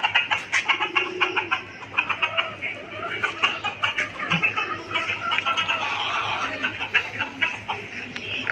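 Pigeons coo repeatedly in a chicken and pigeon coop outdoors, producing soft, rhythmic calls at close range over a faint ambient background.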